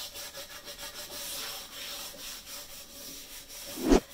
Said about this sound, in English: So I add both a little and just scrub it.